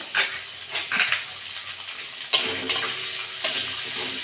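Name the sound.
onions frying in hot mustard oil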